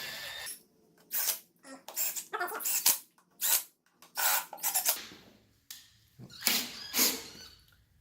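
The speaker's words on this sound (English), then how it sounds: "so now we're just gonna go ahead and tighten down all of our bolts" A power gun tightens the valve cover bolts on an Audi RS6 in a series of loud, sharp rattling bursts. The bursts repeat roughly a dozen times, with short pauses between them.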